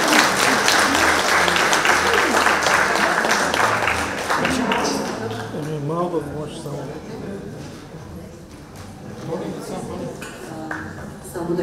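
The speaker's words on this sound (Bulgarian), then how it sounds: "Аплодисменти!" Audience applause at an award ceremony in Sandanski, loud, dense clapping that gradually thins and fades over several seconds, with voices surfacing as it dies down.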